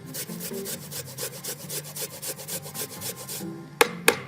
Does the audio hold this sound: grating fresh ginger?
yes